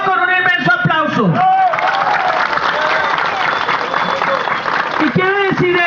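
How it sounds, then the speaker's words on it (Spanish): A large assembly audience bursts into sustained applause after approving a vote at a constituent gathering for peace with social justice, with a voice speaking over the clapping at the start and again at the end. "aprobado con un inmenso aplauso"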